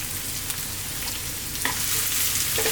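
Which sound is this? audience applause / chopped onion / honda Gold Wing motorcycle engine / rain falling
chopped onion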